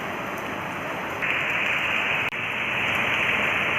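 Steady rain falls outdoors, a dense continuous hiss of drops on surfaces that swells slightly partway through, with one brief dropout, and no voices.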